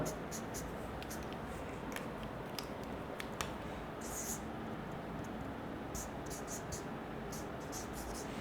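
Marker or chalk scratches across a classroom board during a chemistry lesson: short, dry strokes in irregular bursts, faint and close, over a steady low room hiss.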